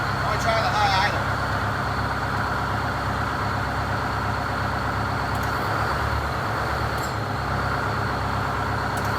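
Engine of a GM 4106 bus running at high idle, a loud steady low rumble throughout, with people talking nearby over it.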